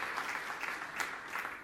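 Church congregation applauding in praise during a Sunday sermon, a steady wash of clapping with small swells, continuous and moderately distant for under two seconds.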